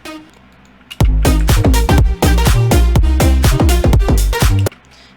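A Sylenth synth lead layers over a bass line in a future bounce loop: loud, punchy stabs repeat in a steady, bouncy rhythm for about four seconds, then stop abruptly.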